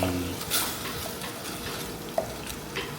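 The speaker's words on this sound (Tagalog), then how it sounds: "igisa lang natin ng maayos yung ating pork" Pork sautéing in a pan for ginisang monggo, a soft steady sizzle with a few stirring scrapes and one sharp utensil clink against the pan.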